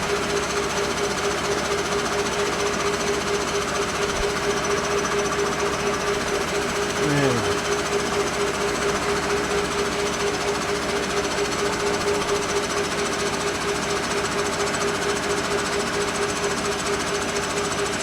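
A body-dropped Samurai pipe bender working a tube for a C-notch, giving a steady loud mechanical drone with a constant tonal hum and rattling texture throughout, plus a brief creaking sweep midway.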